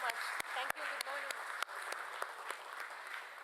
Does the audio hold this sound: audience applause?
yes